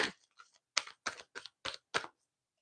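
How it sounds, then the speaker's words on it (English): Tarot cards being shuffled during a live reading, heard as a series of six or seven short, crisp riffling bursts in a quiet room, spaced fairly evenly and fairly close. "I'm going to shuffle out one more card regarding Mercury retrograde."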